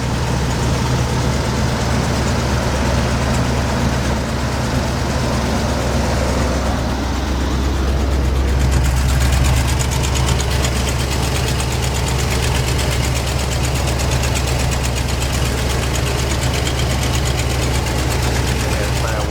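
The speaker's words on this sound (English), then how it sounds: "That exhaust leak is obviously right under here, so manifold or something." Steady idling of a 1985 Holiday Rambler RV engine with an exhaust leak near the manifold, a loud, close, continuous rumble with a rapid ticking pulse and people talking over it.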